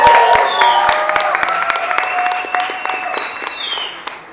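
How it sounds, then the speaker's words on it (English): Loud, sustained applause from a sizable audience at a slam poetry championship, dense clapping with scattered whistles and cheers, gradually easing off toward the end. "Let's give him a round of applause."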